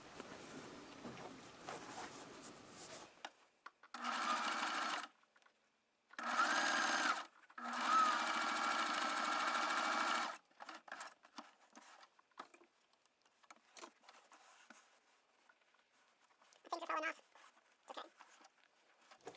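A sewing machine runs a narrow stitch along the edge of a selvage snap bag in three separate bursts, each lasting a few seconds. Quieter handling noises and a little speech come before and after the bursts.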